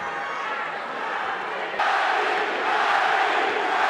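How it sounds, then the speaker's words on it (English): At a boxing match, the arena crowd chants for Manny Pacquiao in a loud, sustained roar of many voices that swells suddenly louder about halfway through. "Crowd chanting Manny."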